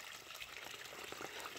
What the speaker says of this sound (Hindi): अपने आप पानी निकल रहा है।